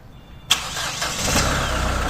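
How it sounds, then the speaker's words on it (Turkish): A 2008 SsangYong Kyron engine fires up on a start-stop system command: a brief starter crank bursts into a loud, close engine catch that settles into a steady idle, with no one speaking. "Marş emrini gönderelim."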